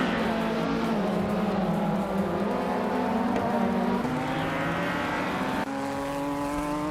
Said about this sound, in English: Amy is driving a Ginetta G55 Super Cup, which is known for its agility